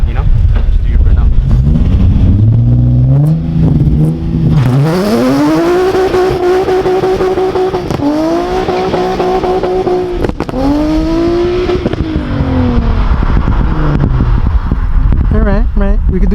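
A Nissan 350Z/G35 does a burnout, its engine revving hard and loud with rising and falling pitch sweeps, held at high revs with brief dips, close and dominant throughout.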